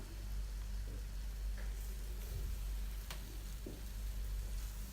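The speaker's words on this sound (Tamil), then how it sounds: "இப்போது நம்ம சுத்தம் பண்ணி எடுத்து வச்சுருக்க இறால் சேர்த்துடலாம்." Cleaned prawns go into frying masala for a Tamil prawn curry, producing a quiet, constant sizzle with a few light scrapes and taps of stirring scattered through.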